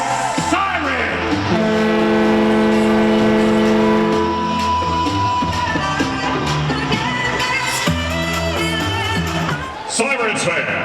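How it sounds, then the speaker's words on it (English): A siren sounds in an arena at a New York Sirens professional women's hockey game in Newark, a loud sustained wailing tone layered with music and crowd noise that carries through the whole stretch. "it's time now to sound the sirens for the first time ever"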